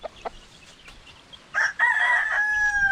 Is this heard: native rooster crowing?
yes